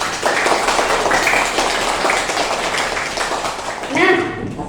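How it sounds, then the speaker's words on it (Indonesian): Children in a classroom clap together at a teacher's prompt, a steady, fairly loud burst of many small hands with some rhythmic patting, a voice briefly audible near the end. "Tepuk tangan untuk kita semua."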